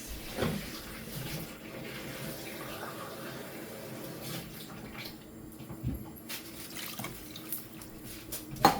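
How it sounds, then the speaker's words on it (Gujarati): Two glasses of water are poured into a cooking pan of frying masala with ginger-garlic paste, giving a close, splashing, trickling pour with a few clinks and drips, moderately loud, with no clear talk. "હવે પાણી એડ કરી દેવાનું."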